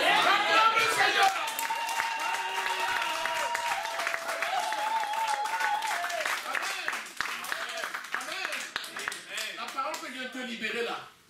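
A church congregation claps together at a worship service, a dense, sustained patter of many hands running throughout alongside sung or played tones and voices, thinning slightly toward the end.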